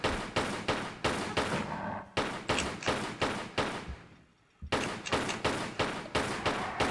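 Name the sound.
Lara shooting raptors in video game Tomb Raider 3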